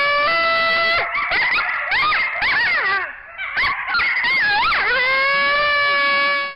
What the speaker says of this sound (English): spied on a group of coyotes howling at each other in the moonlight